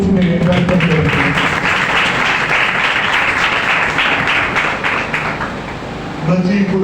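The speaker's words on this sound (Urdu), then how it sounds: "خدا کے خادم کے لیے، خدا کے کلام کے لیے ہم تالی کی گونج میں برکت کرتے ہیں" A church congregation applauds during a sermon with loud, dense clapping throughout, and a voice speaks briefly at the start and again as the applause tapers off at the end.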